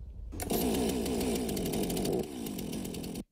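A gas-powered chainsaw runs loud and close, a steady high-revving buzz with a slight drop in pitch partway through, then cuts off abruptly at the end.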